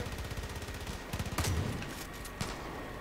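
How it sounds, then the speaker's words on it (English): Gunfire in the video game Far Cry 5, with rapid bursts of automatic fire and a heavier blast in the middle, loud and close, with no talk over it. "stop shooting at me."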